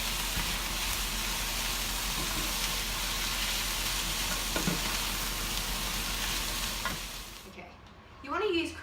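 Bacon and about one and a half cups of chopped onion sizzle steadily in a pan, a continuous close, loud frying hiss with occasional stir scrapes, fading near the end as a faint voice briefly comes in.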